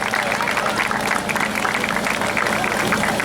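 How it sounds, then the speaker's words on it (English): Audience applause at a food allergy awareness walk ceremony in Baltimore, a dense, sustained wash of many hands clapping outdoors, steady and fairly loud throughout with a few faint voices mixed in. "So give yourselves a round of applause for being part of this great effort."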